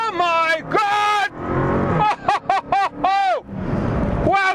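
A Dodge Charger Hellcat, a four-door saloon, accelerating hard on the Yas Marina race circuit: a loud engine howl rising through the revs, with gear changes and sharp rhythmic bursts before climbing again.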